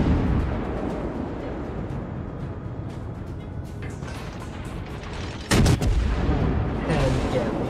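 Cruiser guns firing in the naval battle game World of Warships from a Tier 8 Cleveland, a steady rumbling bed of gunfire with a loud, sharp salvo burst partway through.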